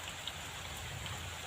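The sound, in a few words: rain falling on a hill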